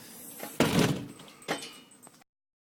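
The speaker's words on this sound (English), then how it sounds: "Shutting the door." A door is pushed shut with a solid thud, followed by a second softer knock or latch click about a second later, close by and with no talking.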